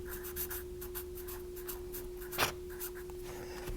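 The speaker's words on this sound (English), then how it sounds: "So let's write down group 2." Pen scratching on paper while jotting down notes, a series of soft, quick strokes with one sharper scrape near the middle, close and quiet with a steady electrical hum underneath.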